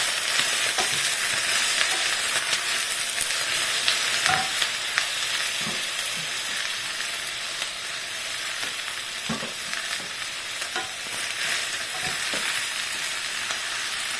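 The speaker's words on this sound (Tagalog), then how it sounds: "Initin lang natin yung adobo." Leftover adobo sizzling steadily as it reheats in a pan, a continuous close frying hiss with small pops and stirring scrapes throughout, no talking.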